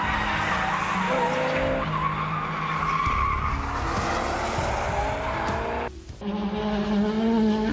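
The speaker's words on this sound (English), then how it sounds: "A car suddenly lost control for a long distance, and he crashes into the divider." A sports car loses control on the road, tires squealing in a long skid with engine whine, then a sudden thud as it strikes a divider, followed by more screeching.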